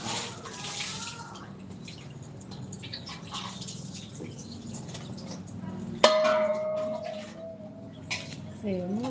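Sandalwood water poured over an idol of Sri Toka Veeranjaneya Swamy during a panchamrita abhishekam ritual, splashing and trickling steadily under continuous chanting voices, with a sharper clatter partway through.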